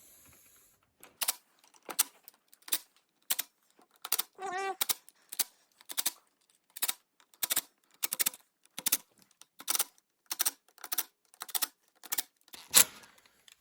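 Phillips screws being tightened in a crisscross pattern on the clutch cover of a Yamaha TTR225 motorcycle, a series of short, sharp ratcheting clicks in quick bursts with brief pauses between, close and crisp against near silence.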